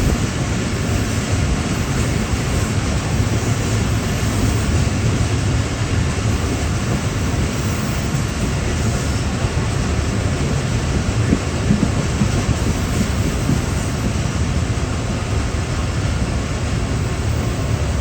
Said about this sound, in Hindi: ट्रेन अप्रोच बना रही है सरहारी रेलवे स्टेशन पर, और स्टेशन से पहले ट्रेन में ब्रेक लगाए हैं